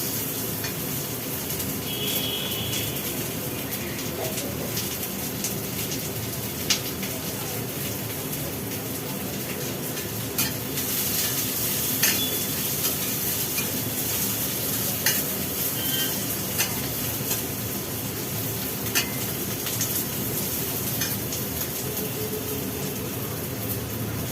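Chopped onions sizzle steadily in hot oil in a pan while being stirred, a dense continuous frying hiss with occasional scraping clicks from the stirring, fairly close and with no talking.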